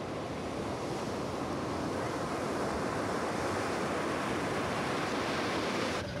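Ocean waves break along a seashore in Kerala, India, a continuous broad wash of surf rolling close and steady, mixed with gusty wind buffeting the microphone and no voices.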